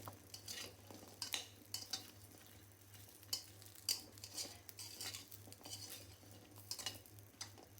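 Pumpkin lentil dumplings fry lightly in oil in a pan while the cook stirs. A soft sizzle runs under repeated metallic scrapes and clinks from a utensil.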